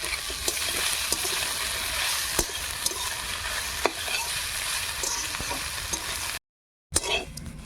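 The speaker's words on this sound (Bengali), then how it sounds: "এইভাবে নেড়ে নেড়ে সর্ষে শাকগুলো ভেজে নেব চেরা কাঁচা লঙ্কা দিয়ে দেবো" Mustard greens are stir-fried with slit green chillies in a pan, a steady close sizzle with occasional scrapes and taps of the spatula, briefly cut to silence before resuming.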